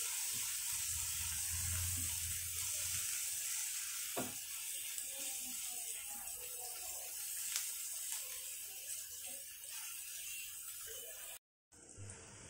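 Onion, ginger and garlic frying in a pan with chopped green chilies, giving a steady close sizzle with occasional scrapes, and a brief dropout near the end.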